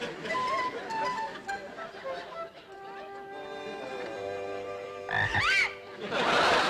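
Small frogs croak in a comedy scene about selling frogs, the calls mixed with squeaky tonal sounds and voices in the background.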